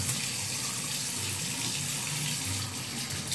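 Tap water runs steadily into a sink while a badger shaving brush is rinsed under it, a close, continuous splashing rush with small shifts in flow and no voices.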